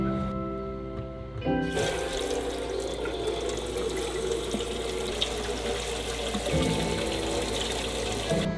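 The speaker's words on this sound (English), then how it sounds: "I'm emptying the hot water, and look what's coming out of the tap." Water gushing steadily from a tap while a broken hot water tank is drained, a constant splashing rush that starts with a sudden surge and continues without pause.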